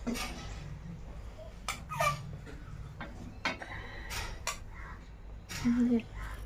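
Spoon clinking and scraping as cooked food is scooped into a tiffin box in a home kitchen, a few light metallic knocks amid soft background voices.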